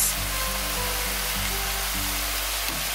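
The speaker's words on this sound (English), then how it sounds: "I'm going to be frying it all in there and then maybe adding more rice." Pineapple fried rice with leftover chicken, cilantro and tamari sauce frying in a pan, giving a steady, close hiss of sizzling that runs unbroken and alone throughout.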